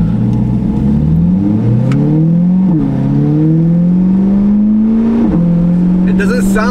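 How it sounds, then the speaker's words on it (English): A 2022 Corvette V8's Paragon Performance track exhaust rumbles loudly up through the revs in a smooth acceleration, pitch climbing steadily with brief dips at gear shifts. "we're just gonna do some moderate accelerating so that way you guys can hear how the exhaust sounds"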